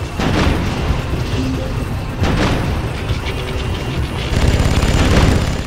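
Gunfire and explosive blasts while destroying objectives in the video game Red Faction 2, with dense rattling bursts and booms over a loud, busy battle backdrop.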